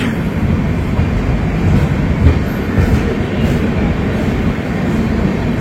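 Puri Shatabdi Express, train 12277, rolling through Khurda Road station without stopping, a loud continuous rumble of wheels and carriages with steady rattling throughout.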